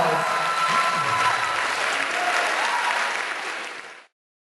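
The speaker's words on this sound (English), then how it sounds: "Let's give them both a big round of applause." An audience at a stage hypnosis show claps in a dense, steady round of applause that runs for about four seconds and then cuts off abruptly.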